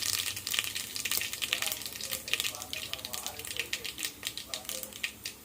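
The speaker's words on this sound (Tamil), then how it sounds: "இப்போ இதில் வந்து கடுகு கடுகு நல்லா புரியட்டும்" Mustard seeds crackle and spit in hot oil in a pan for a fish curry, a dense, continuous sizzle with rapid popping bursts throughout, close and steady.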